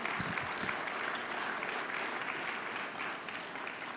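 Applause from a church congregation during a sermon, a continuous, fairly distant wash of many hands clapping that holds steady and fades slightly toward the end.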